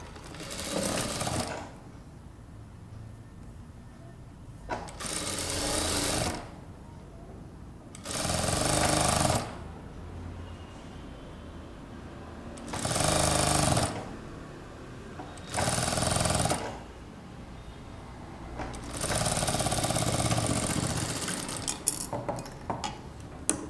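Sewing machine stitching piping onto a princess-cut kurta, running in six distinct bursts of a few seconds each, separated by short pauses, close and steady.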